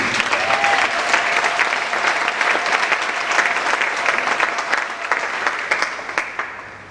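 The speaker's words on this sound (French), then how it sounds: "Si tu as été béni mercredi, acclame le Seigneur Jésus." A church congregation bursts into sustained applause, with dense, steady clapping from many hands and some crowd noise beneath, continuing throughout.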